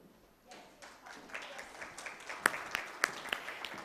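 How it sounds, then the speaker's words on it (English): Audience applause following a talk at a pharma summit, clapping that starts sparse and builds into a moderate round with a few sharp, close claps standing out. "A round of applause there for Mr."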